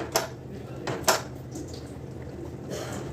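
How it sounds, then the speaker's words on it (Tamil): Coconut milk prawn gravy stirred in a pan, with two light spoon clinks against the metal and soft wet scraping at a quiet, close level. "இப்போ கொஞ்சம் கிளறி விட்டுக்கலாம்."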